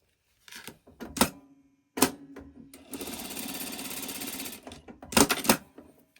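A sewing machine stitches across fabric rectangles for a Christmas tree quilt block, running in a few short bursts, then a longer steady whirring run of stitches, close and alone.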